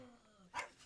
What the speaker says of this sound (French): C'est notre chien ici en studio, il est fâché.